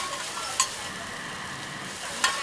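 A street vendor in Bangkok stir-fries pad thai, giving a steady close sizzle with two sharp scrapes or clanks of the pan.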